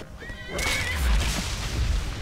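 A horse in a fantasy video game gives one loud, close whinny with a rising then wavering cry, followed by rumbling game sounds and hoof-like thuds.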